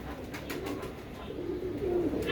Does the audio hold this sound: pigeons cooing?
yes